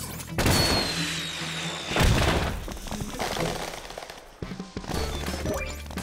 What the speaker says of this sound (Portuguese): Não são fogos de artifício, Lupe. É o sinalizador de emergência do Rick.